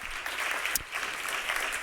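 An audience at a digital economy panel applauds a speaker coming up, a steady, even wash of many hands clapping that continues throughout without talk.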